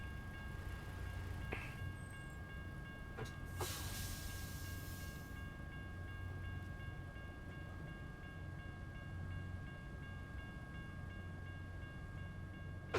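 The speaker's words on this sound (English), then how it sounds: "Got a train coming over there by the sounds of it." A train in American Truck Simulator rumbles steadily in the distance, a low continuous drone with faint tonal hum and a couple of brief clanks, no talking.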